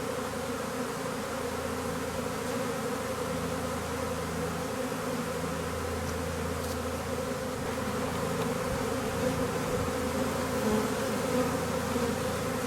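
A swarm of honeybees hums steadily at a hive, a dense continuous buzz from many insects close by, with no talking.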